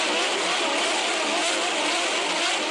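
Dirt bikes or go-karts run laps on a home property turned race course near Ute Pass, heard from inside the house as a steady, dense, whining engine drone with no breaks.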